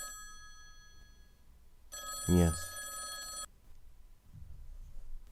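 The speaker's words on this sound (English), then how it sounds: "The phone continues to ring." A telephone bell rings loudly in one sustained burst, with a faint voice briefly heard and quiet room noise around it.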